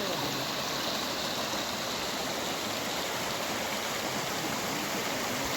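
The Aspart mountain stream at a camp in the Altai rushes in a steady, close, broadband wash of flowing water with no break.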